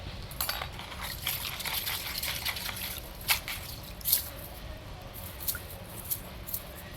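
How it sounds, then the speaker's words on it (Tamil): A panchaloha (five-metal) rudraksha mala is washed in plain water, giving scattered light drips, splashes and small metallic clinks of beads, fairly close and soft, with no voices. "இது வெறும் தண்ணி தான், இதில் போட்டு கழுவிடலாம்."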